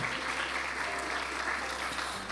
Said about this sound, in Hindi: खुदा के लिए जोरदार तालियां।